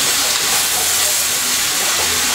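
Vegetables, including tomatoes and green pepper, sautéing in a pan for lasagna filling, giving a loud, steady hiss with no talking.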